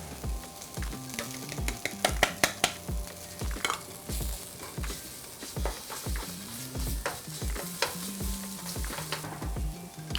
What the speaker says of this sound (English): to this pan, I'm gonna go ahead and add my miso paste. Got red miso paste and palm sugar.